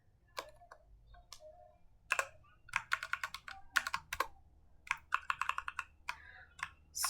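Typing on a computer keyboard while writing Python string code, with quick irregular bursts of close, crisp key clicks separated by short pauses.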